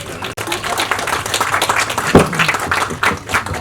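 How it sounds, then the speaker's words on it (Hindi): An audience claps for actor Sharib Hashmi at a film launch event, a steady wash of applause from a crowd that keeps going throughout. "जोरदार तालियां हो जाए शारिब भाई के लिए"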